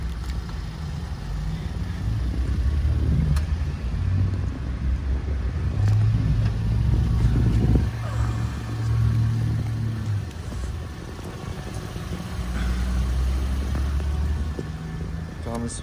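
A 2017 Mitsubishi Lancer SE Limited all-wheel drive with remote start gives a low, steady engine rumble that swells slightly at times, heard under intermittent talking.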